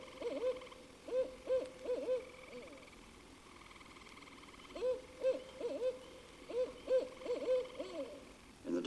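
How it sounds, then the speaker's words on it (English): A barred owl calls from a dark wood at night, giving two loud bursts of rhythmic hooting phrases separated by a short pause, with a faint chorus of frogs or insects behind. "And then out of the darkness of the wood comes the eerie call of a barred owl."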